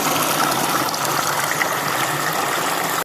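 A large waterfall roars as a loud, steady, unbroken rush of water that fills the whole clip and cuts off abruptly at the end.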